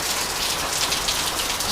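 Heavy tropical rain pours down steadily during a typhoon in Naga City, Philippines, a dense, loud, continuous hiss of drops striking surfaces close by, with no voices.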